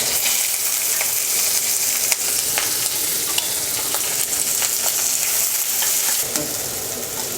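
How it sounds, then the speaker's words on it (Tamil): Onion, mustard seeds, urad dal, dried red chillies and curry leaves frying in hot oil for a beetroot poriyal, giving a steady close sizzle with scattered crackles and stirring clicks throughout. "பொரியலுக்கு எண்ணெய் காஞ்சதுமே கடுகு உளுந்து, பொரிஞ்சதுமே 2 வரமிளகாய், கருவேப்பிலை, 1 பெரிய வெங்காயம்"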